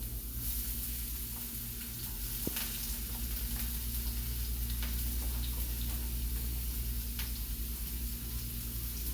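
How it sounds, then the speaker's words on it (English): Onion, garlic and thyme sauté in olive oil with a loud, constant sizzle and crackle, plus a sharp tap or clink partway through. "we're gonna add our onion, garlic, and thyme to the olive oil so that it be sauteed until it becomes translucent"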